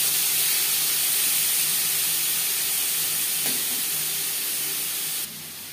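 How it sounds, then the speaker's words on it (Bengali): Marinated prawns frying in hot mustard oil give a loud, steady close sizzle and hiss that holds for several seconds, then drops off abruptly near the end, with no talking. "2 চামচ সরষের তেল গরম করে নেওয়ার পর দিয়ে দেবো ম্যারিনেট করে রাখা চিংড়ি মাছ"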